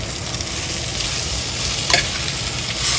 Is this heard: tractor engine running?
no